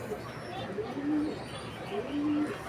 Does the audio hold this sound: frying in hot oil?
no